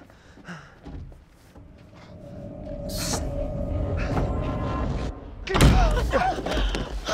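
A door kicked open in the horror game Little Hope, heard as a heavy thud and crash after a tense rumbling build-up, with a faint voice nearby.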